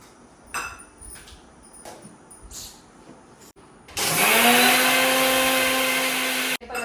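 Faint kitchen clatter gives way to a blender suddenly roaring to life while making juice, a loud, steady whirring whine that settles in pitch after starting and runs for several seconds before briefly cutting out.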